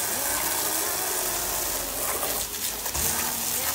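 Water sprayed from a distance onto a pair of Ultraboost shoes makes a loud, continuous hissing rush with a few sputtering bursts near the end, and no talking.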